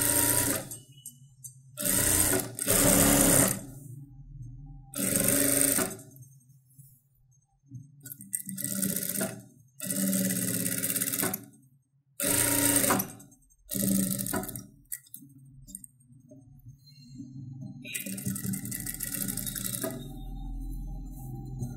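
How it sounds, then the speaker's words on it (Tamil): A sewing machine stitches the top edge of a blouse in repeated loud, close bursts of rapid needle chatter, separated by short pauses with quiet handling noises. "இப்போ திருப்பிட்டு மேல் பக்கத்தில் ஓரத்தில் தையல் மட்டும் போட்டுருங்க."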